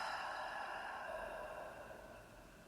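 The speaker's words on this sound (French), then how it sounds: "Et expirez par la bouche." A single soft exhale through the mouth during a guided breathing exercise, a faint breathy rush that slowly tapers off.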